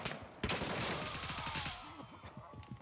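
Automatic rifle fire in the tactical shooter game Gray Zone Warfare, a loud sharp shot followed by a rapid burst of rounds rattling for about a second and a half, then trailing off into faint echoes.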